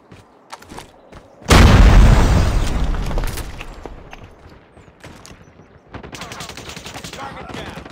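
A grenade blast bursts loud and close in a first-person shooter game, fading into scattered gunfire and sharp game effects, with brief voice chatter around it.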